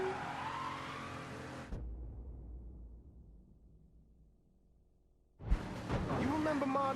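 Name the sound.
car driving and skidding in video game Mafia 3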